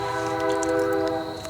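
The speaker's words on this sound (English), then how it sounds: "sorry about the train" A train passes nearby with a steady, sustained horn-like tone and a constant rumble that holds for the whole short span.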